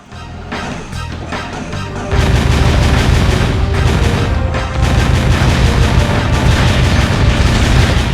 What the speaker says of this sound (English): you can't just rapid fire, because then your weapon will overheat